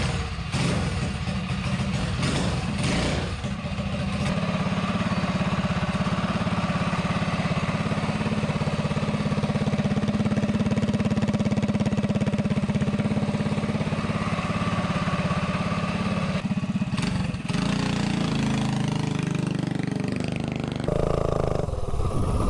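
A small engine with a swapped carburetor, likely on a minibike, runs close and loud in a steady drone with a few revs and cuts near the start and end, no talk over it.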